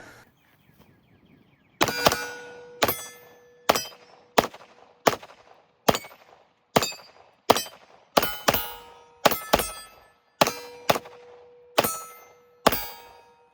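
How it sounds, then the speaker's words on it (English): Pistol shots from a Smith & Wesson M&P Competitor HD steel-frame handgun ring on steel targets, about a dozen sharp cracks each followed by a metallic ping, fired in an irregular quick cadence, loud and close. "Let's shoot some big targets so my confidence can get back."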